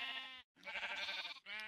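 Sheep in Minecraft bleat in two close, wavering calls split by a brief silence, clear and alone with no talking.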